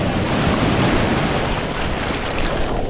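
Strong surf breaks and rolls onto a beach at Boston Beach in Portland, Jamaica, a loud continuous roar of churning water with wind buffeting the microphone and no voices.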